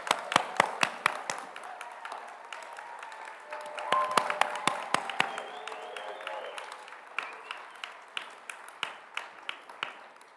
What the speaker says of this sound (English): give our 21 graduate dental hygiene students here tonight a very warm round of applause